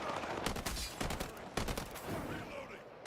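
Rapid bursts of gunfire in a video game, repeated sharp close shots in quick irregular succession over a busy, loud game soundscape.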